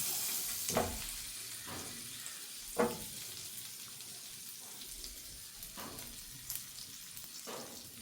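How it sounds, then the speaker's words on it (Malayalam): Bread slices toasting in melted butter in a pan for a boiled egg tuna sandwich give a soft, steady sizzle, broken by a few brief clatters and scrapes spread across the stretch, with no talk. "ആ ബട്ടർ മെൽറ്റായിട്ട് നമുക്ക് ഈ ബ്രെഡ് ഇതിലേക്ക് വെച്ച് കൊടുക്കാം"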